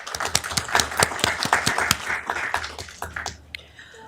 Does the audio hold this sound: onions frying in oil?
no